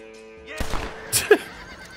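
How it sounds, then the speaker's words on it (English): Horse neighing in the Western video game Red Dead Redemption, a close, loud whinny with a snort, over quiet game background and brief thuds. "Oh, maybe you shot that horse."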